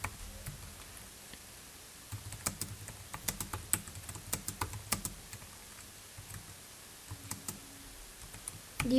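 Close, quiet computer keyboard typing comes in irregular bursts of crisp key clicks with short pauses between words, alone without any voices.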